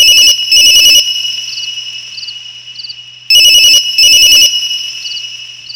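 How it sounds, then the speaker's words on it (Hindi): A telephone ringtone rings in two bursts of paired electronic trills separated by quiet gaps, loud and close with a faint steady tone underneath. "तभी उस शांत माहौल को चीरती हुई फोन की रिंग बजी।"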